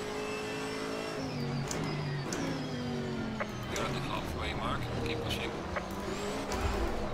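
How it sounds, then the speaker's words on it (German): A GT4 race car in Assetto Corsa Competizione slides sideways with traction control off, its engine revving and shifting pitch continuously under a voice talking over the game audio. "So, dann gucken wir mal, ob wir die Karre jetzt hier noch ein bisschen mehr quer bekommen."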